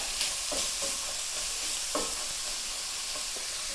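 Olive oil pops and crackles in a pan while carrots, celery and onions sauté for a sausage and white bean stew, with a steady sizzle broken by a few sharp, close pops.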